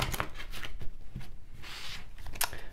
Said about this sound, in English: let's do some shuffling